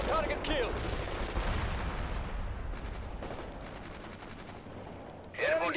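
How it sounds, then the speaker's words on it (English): Gunfire from a World in Conflict battle, dense and continuous with overlapping bursts at mid distance, mixed with radio-style unit voice callouts, and a sharper blast near the end. "They're taking hits. We're under fire."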